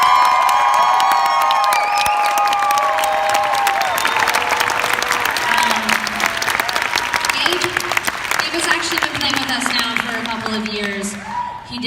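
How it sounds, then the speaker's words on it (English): A concert crowd at The Anthem in Washington, DC, breaks into loud, sustained applause and cheering for a band member, with shouts and whoops rising over dense clapping that continues throughout. "Give him a round of applause."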